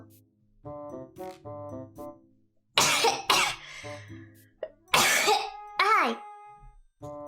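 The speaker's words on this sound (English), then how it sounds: "I've been coughing for the past 4 minutes." After eating a candy, a young-sounding voice gives several harsh, bursty coughs and throat-clearing sounds. They come in uneven clusters between stretches of speech, loud and close.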